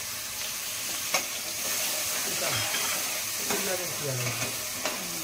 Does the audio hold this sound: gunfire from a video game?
no